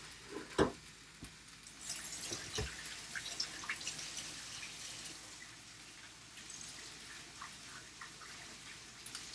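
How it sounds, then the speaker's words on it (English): Kitchen faucet water running at a sink while hands are washed during breakfast taco prep, a soft steady hiss with a few light drips and clinks, no talking. "I'll wash my hand real quick."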